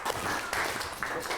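Students in a Grade 7 science classroom clap for a classmate group, a short burst of dense, fairly close applause with rising swells lasting about a second and a half.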